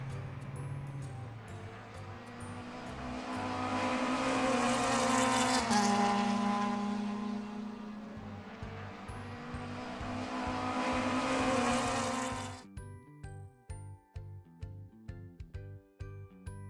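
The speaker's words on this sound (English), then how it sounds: "Look, these 10 cars are racing." Several race cars roar past in a loud, continuous engine whine that swells and fades as they pass, ending in a series of short, sharp bursts with no talk.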